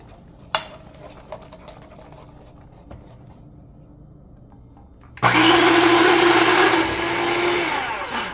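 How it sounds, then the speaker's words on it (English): An electric hand mixer creams butter for oatmeal raisin cookies. After a few light clinks and knocks in a quiet kitchen, the motor starts abruptly with a loud, steady whirring drone that lasts to the end of the clip. "I'm gonna use my mixer to help me with the mixing to get it nice and creamy"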